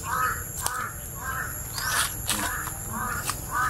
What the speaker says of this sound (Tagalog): Madami talaga uwak.